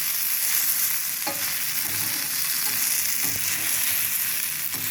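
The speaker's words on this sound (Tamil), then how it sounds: "தேங்காய் போட்டாலும் ஒரு 2 நிமிஷம் வதக்கினா போதும்." Grated coconut and fresh coriander leaves sautéing in a hot pan for a thick chutney, a steady close sizzle with a few scraping stir strokes from a spatula, no voices.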